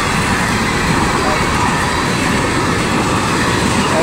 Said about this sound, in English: I haven't seen one of those locomotives in a while.